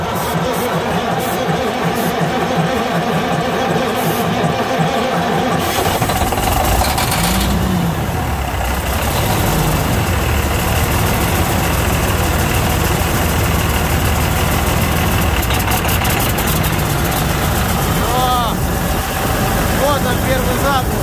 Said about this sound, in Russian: Итак, парни, запуск, первый запуск интерочка.